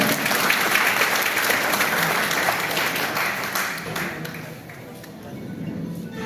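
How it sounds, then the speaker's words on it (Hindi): An auditorium audience applauds to welcome a guest onto the stage, a dense, steady wash of clapping that gradually thins and fades toward the end. "गुप्त मैम को यहाँ मंच पर आमंत्रित करता हूँ, तालियों के साथ।"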